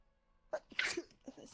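A single sharp sneeze from a person bursts out after a quiet start, loud and close, followed by brief voices in the background.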